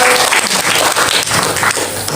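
A congregation at a prayer and fasting gathering claps and cheers in a short, loud, busy burst of applause.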